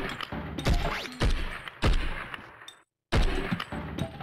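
Gunfire and grenade blasts in the Blood & Bacon video game: a rapid series of loud, sharp shots and heavy thumps, broken by a brief silence before firing resumes.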